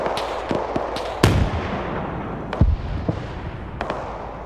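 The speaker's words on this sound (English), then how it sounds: "Tank 2, I just saw you fire the main gun again." Several sharp booming blasts from a tank's main gun in a video game, a loud one near the start and another midway, with lighter pops in between over a busy noisy background.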